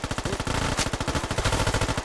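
Rapid automatic gunfire from the tactical shooter game Squad rattles off in dense, continuous bursts, close and loud, with a sharp crack standing out near the middle.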